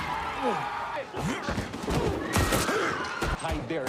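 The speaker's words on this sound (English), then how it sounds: "Bullets flying, bodies dropping." Gunshots ring out during a warehouse shootout in an action film. Loud, sharp bursts come in rapid, irregular clusters alongside thuds and impacts, mixed with voices.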